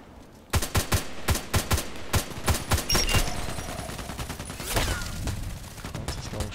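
HK417 rifle shots in a video game: a rapid string of about a dozen loud, sharp gunshots over two and a half seconds, followed by a fainter burst and lingering gunfire noise.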